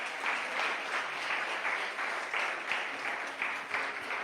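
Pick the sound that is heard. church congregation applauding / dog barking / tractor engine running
church congregation applauding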